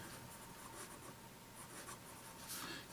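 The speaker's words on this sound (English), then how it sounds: "let's go ahead and put ink to paper, and let's see how it writes" A Sheaffer Javelin fountain pen with a fine nib writes on paper: a soft, steady scratching of the nib over the sheet for nearly three seconds, faint and close, with no talking.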